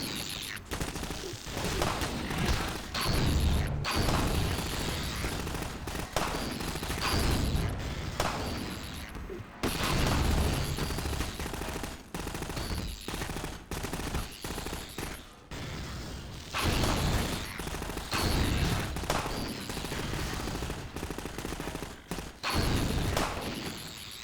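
Rapid bursts of gunfire from a shooting battle against enemies in Half-Life 2, loud and continuous with brief pauses between volleys, dense and crackling throughout.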